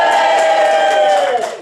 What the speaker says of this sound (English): Let's have a cheer for Mike.